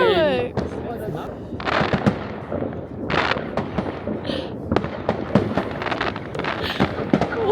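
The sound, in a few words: New Year's fireworks in Germany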